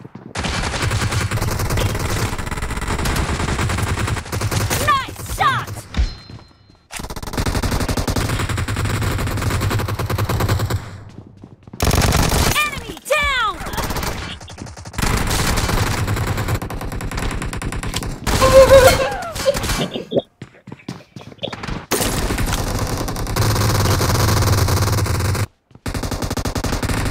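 Rapid bursts of automatic gunfire from the battle royale game BGMI, loud and sustained over about half a minute, broken by short quiet gaps and a few sweeping effect sounds.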